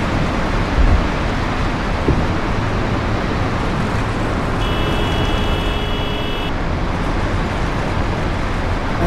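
Rain effect in The Bus driving game at night: a steady, dense hiss of rainfall over a low engine and road rumble, continuous and even throughout, with a faint tonal whine partway through and no speech.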